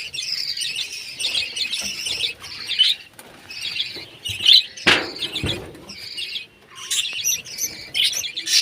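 Many small birds chirp and tweet in bursts, close and busy, with a few wing flutters and sharp squawks mixed in.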